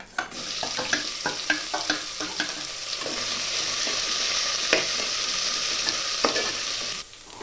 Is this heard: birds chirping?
no